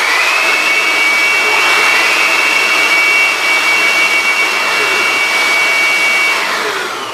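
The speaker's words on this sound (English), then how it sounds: "When wind blows, turbine blades spins, capturing energy." Strong blown air spins a small model wind turbine connected to a motor, producing a loud, constant rushing roar with a steady high whine that fades slightly toward the end, with no speech.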